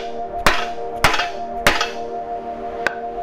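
Three evenly spaced hammer blows thud through a wooden 2x4 block, driving a rear subframe bushing on a Nissan 350Z, followed by a lighter tap, against a steady low background hum.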